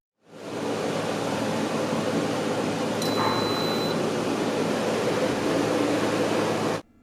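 A 10,000 BTU window air conditioner powered by a portable solar generator indoors starts up into a loud, steady rushing hum, with a brief electronic beep partway through before it cuts off.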